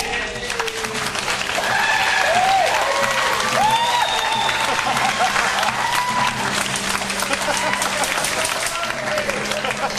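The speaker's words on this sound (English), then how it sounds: "The restaurant applauds you and congratulates you on making it through to this final day in Hell's Kitchen." Restaurant diners applaud the finalist celebrity chefs at Hell's Kitchen, a sustained wash of clapping under tonal music stings and a voice speaking over it.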